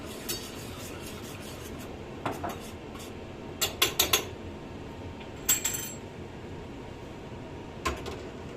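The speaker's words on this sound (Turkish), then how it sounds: "Kapalı ocakta sadece onu böyle karıştırıyorum." A spoon clinks and scrapes against a metal pot of lentil soup on a switched-off stove in a few short bursts, with quiet gaps between the stirring sounds.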